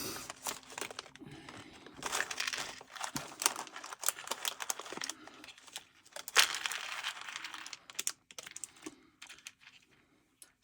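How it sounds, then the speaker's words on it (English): Paper snippets for junk journaling rustle and crinkle up close as they are handled, in irregular bursts of dry crackling with short pauses between. "I've got snippets of paper everywhere."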